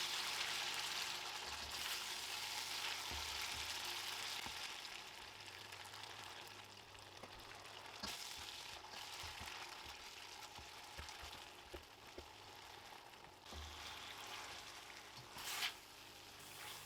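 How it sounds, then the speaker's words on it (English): Beef flash-frying in oil in a wok gives a soft, continuous sizzle and crackle, fairly faint and steady, with a few light clinks of stirring and no voices. "Only takes about a minute to flash fry this."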